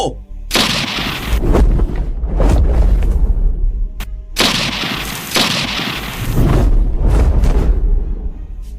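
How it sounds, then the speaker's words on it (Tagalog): Two loud bursts of rapid gunfire ring out close by, each a dense volley of sharp cracks with booming echoes trailing off. "Malulutong na putok ng baril ang pinakawala ng mga kidnapper sa aswang"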